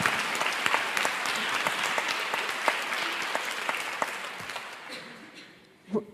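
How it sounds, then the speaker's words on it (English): An audience at a Human Trafficking Awareness Day event claps in a steady, full round of applause that fades out over several seconds, with a brief voice at the very end. "I want to give them another round of applause"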